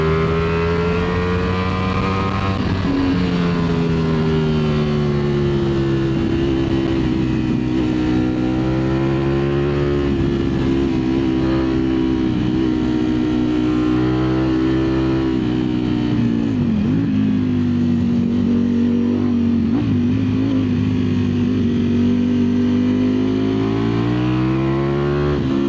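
A 2025 Ducati Streetfighter V4 S engine roars close and loud under hard acceleration, a sustained high-revving growl rising through gears with brief dips at shifts, no voices.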